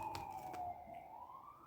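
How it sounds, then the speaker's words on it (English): Emergency vehicle sirens wail faintly outside, a thin, falling tone drifting at a distance under quiet room hush. "Sorry about the sirens"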